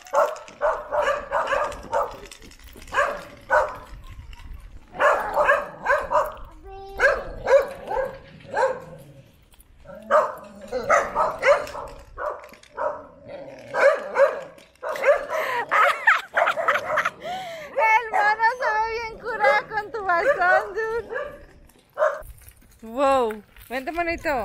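Dogs in Mexico bark, yip and whimper in bursts throughout, close and loud, with whiny high cries near the end and some talking mixed in.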